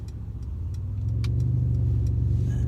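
A car drives steadily through a residential neighborhood, its mid-pitched engine hum building slightly and holding, with faint ticks and road noise on top, close and fairly loud.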